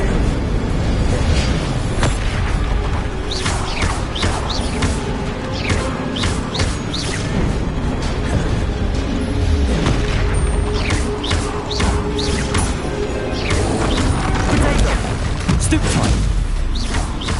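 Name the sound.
Bombarda explosive spell blasts in video game Hogwarts Legacy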